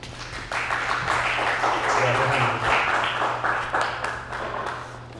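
An audience at a talk on slow fashion and responsible consumption breaks into steady clapping, a dense wash of applause lasting several seconds before thinning slightly, with a voice briefly audible underneath.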